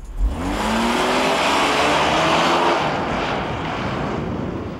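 A 1995 Volvo 960 station wagon on a skid pad, driving past with a loud continuous rushing roar of engine, tyres and wind, briefly rising in pitch before settling into a steady wash.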